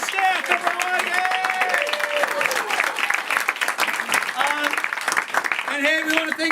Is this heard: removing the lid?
no